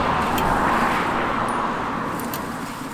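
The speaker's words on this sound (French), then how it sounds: "il y a trop de circulation dehors" Road traffic outside, heard as a car passing close by with a steady whooshing roar that slowly fades over a few seconds.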